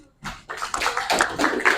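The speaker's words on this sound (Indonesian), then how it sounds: "Tepuk tangan untuk kelompok 2." Applause for a student group in a classroom starts after a brief silence, a short burst of scattered hand clapping that continues to the end.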